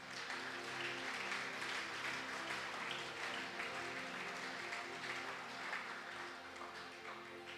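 A church congregation applauding in praise of the Lord, steady sustained clapping that stays fairly quiet and even throughout, with faint background tones from music underneath.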